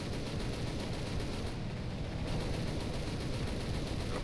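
Aircraft machine guns in the War Thunder video game fire in a continuous roaring stream of rapid shots, loud and unbroken throughout, with no voices.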